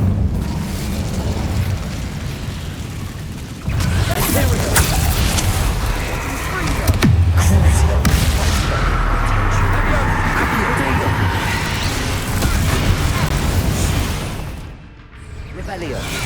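An Incendio fire spell cast in Hogwarts Legacy erupts in loud, roaring bursts of flame and booms that repeat over a dense, continuous bed of game noise, swelling and fading before a brief dip near the end.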